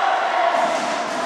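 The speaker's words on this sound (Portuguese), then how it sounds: "E a torcida vibrando" A kickboxing crowd at a tournament final cheers in a dense, steady roar that fills the short moment.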